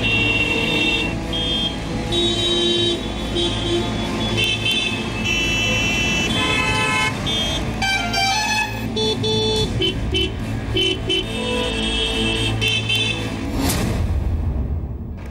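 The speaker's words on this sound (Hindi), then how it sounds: "आपके बेवजह बजते हॉर्न सुकून छीन रहे हैं।" Dense city traffic in Gurugram with car horns honking repeatedly, short toots and longer blasts overlapping from several vehicles against a constant engine rumble.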